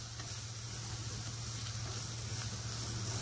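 Onion and green chili frying together in hot oil, a steady close sizzle with a constant hiss and a low background hum, no talking.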